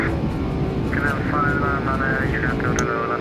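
Boeing 747-200 in X-Plane 12 rolling down the runway on its takeoff run, a steady loud engine roar with a droning hum throughout, while a voice talks over it.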